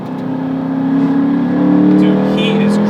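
A Ford Mustang's engine hums and swells as it accelerates in pursuit of a cyclist, a steady close drone rising gradually in pitch with someone talking over it.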